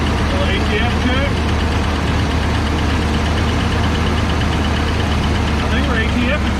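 Close, steady idle of a Chevrolet C10 squarebody truck engine, a continuous low rumble with a light ticking lifter clatter running through it, while people talk faintly over the noise.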